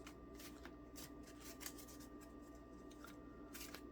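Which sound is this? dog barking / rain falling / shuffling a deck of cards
shuffling a deck of cards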